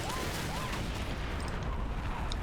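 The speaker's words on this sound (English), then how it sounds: "he's getting some 50 cal fire out" An M60 tank's .50 cal machine gun fires in the Combat Mission video game: a dense, continuous burst of heavy gunfire with booming low rumble, loud and sustained throughout.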